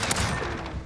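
M4 rifle gunfire in a shooter game, a close, loud, rapid stream of shots with crisp cracks blending into a continuous burst over under a second.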